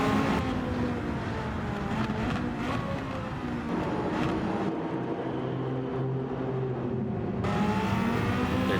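A race car in the Gran Turismo 7 video game drives into the pit lane with a loud, continuous engine drone whose pitch shifts slightly over several seconds. No one speaks.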